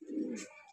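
A soft, brief coo from a breeder high-flying pigeon sounds once, faint and close, with a low throaty tone.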